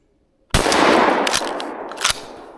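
A single loud, close 20 gauge shotgun blast fired at a squirrel while hunting a snowy creek bottom, with a sharp onset and a long rumbling decay, plus a couple of brief knocks during the tail.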